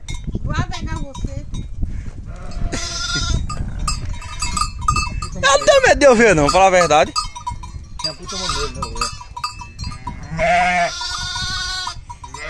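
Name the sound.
sheep or lamb bleating on a farm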